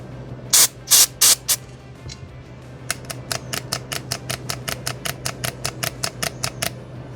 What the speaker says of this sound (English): spray some electronics cleaner in it